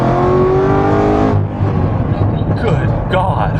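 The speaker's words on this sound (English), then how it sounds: "Here's a second gear pull." A modified 2009 Chevrolet Corvette Z06 with straight-piped exhaust pulls hard in second gear, a loud, climbing engine howl that cuts off at the shift into a rough, rumbling idle as people talk over it.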